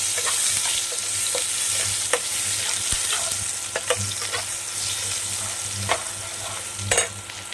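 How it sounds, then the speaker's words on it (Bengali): Chopped onions fry in a pan for a fish curry with cauliflower and potato. A steady close sizzle runs throughout, with a few scrapes and knocks of stirring and no voices. "পেঁয়াজটা একটু হালকা লাল লাল করে ভেজে নেবো।"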